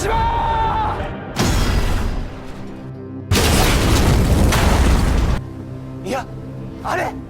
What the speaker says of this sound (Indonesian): pesawat Koichi menghantam tepat waktu yang menyebabkan ledakan hebat